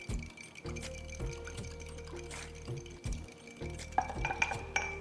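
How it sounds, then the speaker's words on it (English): Salad dressing seasoned with Trini jira gets whisked in a bowl, a quiet clinking and stirring with soft liquid sloshing and a few sharper taps of utensil against the dish near the end, all close up and without talk. "So, whisk this together."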